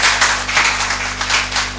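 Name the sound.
congregation clapping in welcome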